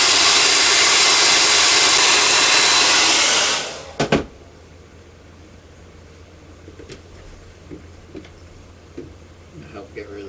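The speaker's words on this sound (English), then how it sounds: "Maybe now would be a good time to hit it with the dryer to help it." A hair dryer blasts loud and steady, heating styrene plastic walls for a model kit, then cuts off abruptly, leaving a quiet room with faint clicks and handling noises.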